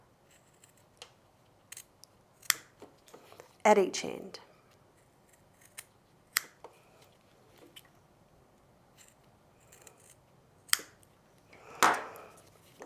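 Scissors snip through the ends of zipper tape, cutting them to the zip's width; several sharp cuts land at irregular intervals, with two louder, longer snips, under quiet talk.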